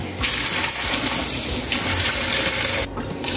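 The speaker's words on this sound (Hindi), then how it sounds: "अब इसमें पानी डालेंगे।" Tap water gushes steadily into a vessel holding spinach leaves for washing, a loud close continuous pour with a brief dip near the end.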